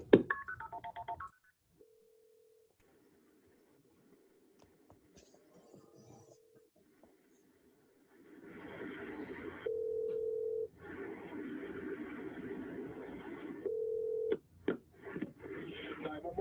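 A call to a police dispatch center opens with a brief voice, then a faint tone, scattered button clicks, and repeated ringback tones that switch on and off over a loud hissy line before a final click.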